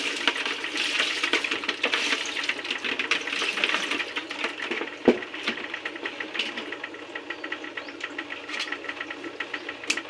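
Live crabs are rinsed in water to clean off mud, making a continuous splashing, sloshing wash with scattered clicks and knocks of shells, steady and close, with one sharper thump in the middle.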